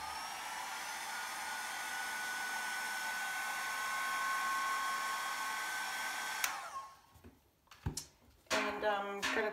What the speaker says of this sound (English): Just gonna dry that real quick.